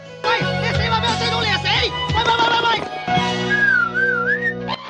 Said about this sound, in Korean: 휘파람 한 번 불러주니 잽싸게 날아가는 이 친구